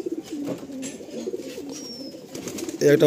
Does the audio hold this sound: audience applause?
no